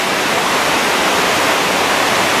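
Amagoi Falls, a waterfall, rushes in a dense, loud, unbroken roar of falling water that stays steady throughout, with no voices.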